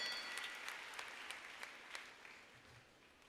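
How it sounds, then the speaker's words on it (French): Spectators at a pony show-jumping Grand Prix give a round of applause, a wash of distant clapping heard faintly, slowly thinning toward the end. "il va falloir donner un petit peu de voix, un petit peu d'applaudissements, mesdames et messieurs"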